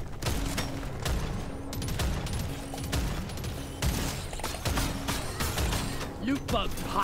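Rapid automatic gunfire from the video game Deep Rock Galactic Survivor rattles in dense, continuous bursts, loud and close, with a voice talking over it.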